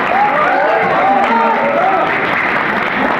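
Loud, steady audience applause and crowd noise at a staged play, welcoming the first member, with a voice heard faintly through the dense clapping.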